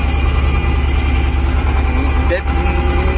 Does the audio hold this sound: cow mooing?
no